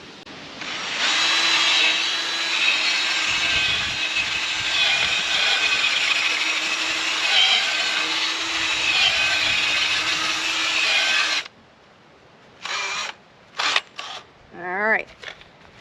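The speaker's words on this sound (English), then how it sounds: "I use the auger again to kind of zhuzh all the pro mix, the fertilizers, and everything into the hole" A handheld garden auger churns potting mix and fertilizer down in a planting hole, a steady motor whine with a constant tone lasting about eleven seconds, then stopping, followed by brief softer knocks and rustles.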